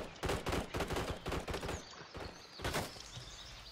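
Bursts of automatic gunfire in a hardcore multiplayer shooter, rapid loud rattling volleys packed tightly together, then a short lull and one more burst.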